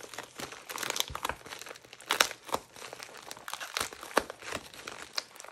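Pearly white plastic packaging from a mystery grab bag is handled and unboxed close up, producing bursts of crisp crinkling and crumpling with a few tearing rustles and no speech.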